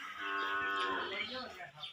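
A single buffalo gives a long, low moo close by at a dairy farm, with no other sound over it.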